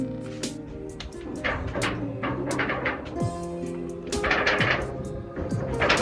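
Pigeons coo softly and continuously close by, with flapping and scattered knocks over a steady background hum.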